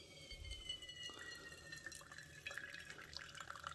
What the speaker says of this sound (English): Now you just take the water and you just pour it over top, just like so.